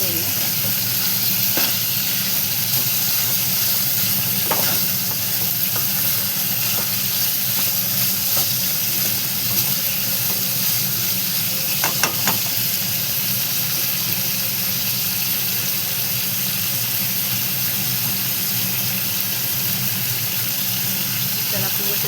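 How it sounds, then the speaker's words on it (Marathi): Masala for a prawn curry sautéing in a pan, a loud, dense, continuous sizzle with occasional stirring scrapes, close and unbroken throughout. "आणि बघा मस्त असा मसाला सगळं आपण परतून घेऊया."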